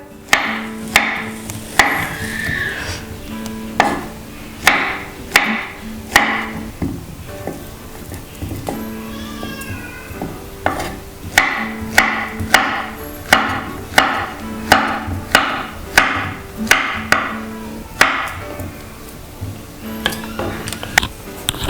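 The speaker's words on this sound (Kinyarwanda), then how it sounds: "Turabanza dutonere umuneke wacu, dutonere n'undi, turangiza tuyikatemo uduce dutoya." Peeled bananas are knife-cut into small pieces on a board while preparing a fruit smoothie. Crisp, evenly spaced chops repeat close by, pause briefly midway, then resume in a steady rhythm.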